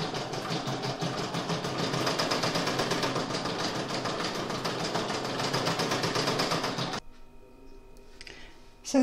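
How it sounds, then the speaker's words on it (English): An embroidery sewing machine runs steadily for about seven seconds, stitching a fancy pattern along a seam of a clutch purse, then stops abruptly, leaving a quiet hum and a brief clunk near the end. "it's going to do the fancy stitching along this seam here"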